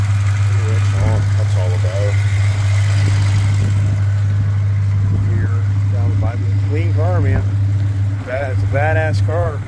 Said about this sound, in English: That motor sounds damn good, man.